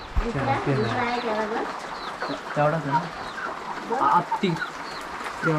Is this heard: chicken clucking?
yes